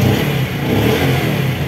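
A 2024 Yamaha PaG-1 motorcycle engine, started by its electric starter, runs loud and close with a steady mid-pitched revving drone and no talking.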